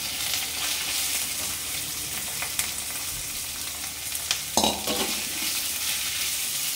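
Sliced onions fry in oil over a high flame for Telugu-style puri curry, a steady bright sizzle running throughout with a few stirring scrapes and a louder burst partway through; no one speaks.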